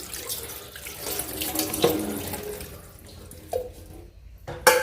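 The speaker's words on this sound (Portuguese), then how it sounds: "Eu tô lavando essas louças aqui" Running water pours from a kitchen tap into a sink as dishes are washed, a steady close splashing stream with brief clinks and a couple of sharper knocks near the end.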